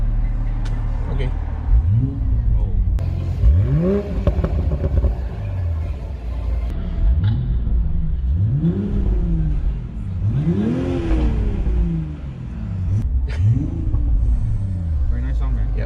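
A Toyota GR Supra revs hard on an airstrip, its engine note rising and falling in repeated bursts over a steady low rumble, with voices talking throughout.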